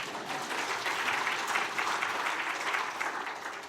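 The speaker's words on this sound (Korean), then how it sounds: "박수 한번 쳐주세요" An audience claps for the emcee at a church gospel meeting in Seoul, with steady, dense applause filling the hall throughout the clip at a fairly even level.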